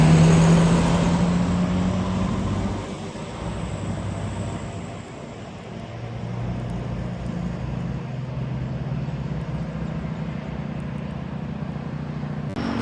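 An NPM intercity bus, the Firkansa 22 "No Comment", rolls into the Sungai Lasi area near Solok, its steady, loud engine rumble and road noise swelling and easing slightly as it passes close by, with no talking.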